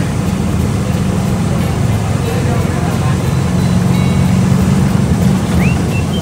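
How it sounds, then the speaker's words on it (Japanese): Heavy car traffic on a busy Kuala Lumpur street, heard from a crowded bus, forms a dense continuous roar of engines and road noise with faint voices mixed in. "この辺りはすごい車が 多いエリアですね"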